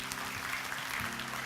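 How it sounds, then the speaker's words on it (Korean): A Sunday worship congregation in a Korean church claps in a continuous, even patter. The applause sounds somewhat distant and soft over a low room hum. "모든 영광을 하나님 앞에 박수로 돌려드리겠습니다"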